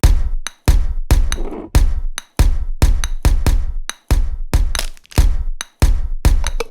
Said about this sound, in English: So you get a rhythm that sounds a bit like this.